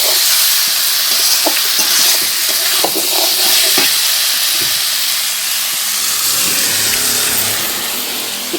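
Eggplant slices fry in a pan on a clay wood-fired stove, making a loud, steady sizzling hiss with occasional soft knocks and clinks, and no one speaks.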